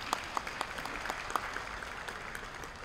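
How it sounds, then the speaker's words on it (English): Audience applause at a school committee awards meeting, a steady wash of many hands clapping with a few sharper individual claps standing out, moderately loud and continuous. "You can clap for that"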